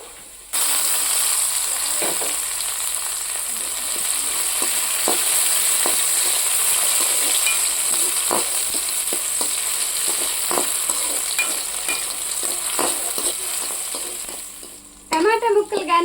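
Tomato pieces added to a pan of softened capsicum, onion and carrot sizzle and fry steadily throughout for a Maggi masala, with occasional stirring clicks and scrapes, close and continuous until a brief clatter near the end.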